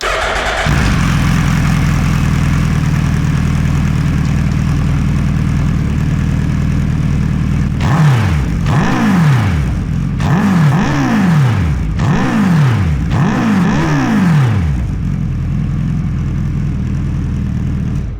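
A Suzuki Hayabusa motorcycle with a new baffled exhaust idles with a steady low rumble, then is blipped through about five quick, sharp revs in a row before settling back to idle, loud and close.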